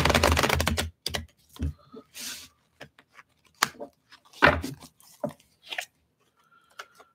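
Tarot cards being shuffled by hand, a dense riffling burst followed by scattered short taps and flicks of cards, close and dry with no talk.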